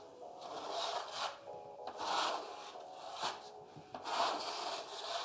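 Plastering blade spread across filler on a wall, repeated close scraping strokes in a steady back-and-forth rhythm, each swelling and fading, with no talk over them.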